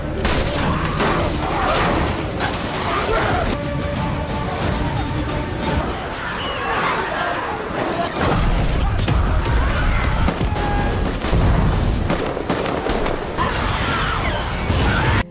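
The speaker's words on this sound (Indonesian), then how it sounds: "mereka melancarkan serangan yang melibatkan senapan, ledakan, hingga api." Chaotic bursts of gunfire and booming explosions from a zombie TV series scene overlap continuously, loud and close, with crashes and muffled voices mixed into the din.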